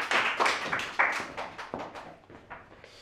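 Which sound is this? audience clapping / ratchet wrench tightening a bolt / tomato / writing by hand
audience clapping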